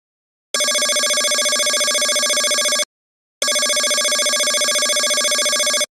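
A mobile phone ringtone sounding in two identical bursts of about two and a half seconds each, separated by a brief silence, loud and clear with no voices over it.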